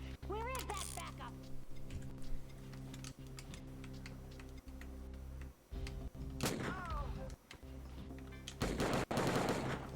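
Bursts of gunfire in an FMV video game, scattered sharp shots and clicks with talking and game voices over much of it.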